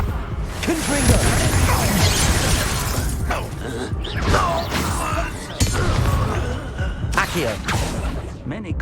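A Confringo blasting spell explodes in the Hogwarts Legacy video game, with loud shattering crashes and booming bursts recurring over several seconds amid dense game sound effects and some voices.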